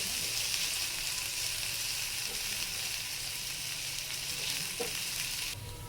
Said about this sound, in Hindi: हल्का सा प्याज को आपने भूनना है, हल्का सा हम इसे फ्राई कर लेंगे।